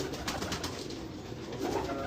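Several pigeons in a rooftop breeder setup in Karachi coo softly and continuously nearby, low burbling calls overlapping in a steady murmur.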